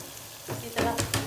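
Chopped tomatoes are stirred into a hot frying pan for a cauliflower and meat curry, giving a short burst of sizzling with scraping stirs near the end.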